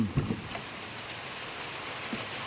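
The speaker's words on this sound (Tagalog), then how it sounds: "Lumakas talaga ang ulan." Steady heavy rain pours down outdoors during a neighbourhood fiesta night in Purok 6, Cabcabon, Butuan City, a dense continuous hiss with a few faint knocks at the start and no voices.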